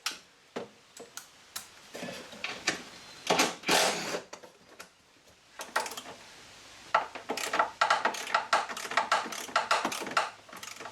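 A ratchet wrench works a bolt during knock sensor replacement on a Toyota Sienna, producing close, irregular bursts of sharp ticking clicks with brief pauses between pulls, heard alone without speech.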